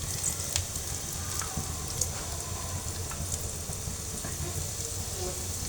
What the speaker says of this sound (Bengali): তো এবড়ো থেবড়ো করেই ভেজে নিচ্ছি আমি আজকে পকোড়াটা